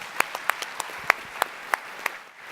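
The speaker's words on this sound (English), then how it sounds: "Please ask you to join me in thanking the panel for a very interesting discussion." Sparse, scattered clapping from a small audience at an energy summit panel session, a handful of distinct individual claps spaced apart, fairly faint and thin.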